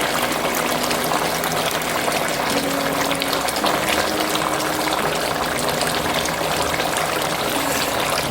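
Jamaican-style jerk sauce pours in a continuous, bubbling liquid stream, close and steady for several seconds, with no talking.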